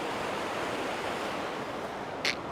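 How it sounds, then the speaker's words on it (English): Small waterfalls and cascades tumble behind mossy logs in an ancient Vancouver Island forest, giving a steady, unbroken broadband rush of flowing water with one brief sharp tick near the end. "there's some more logs behind with little waterfalls and cascades coming down"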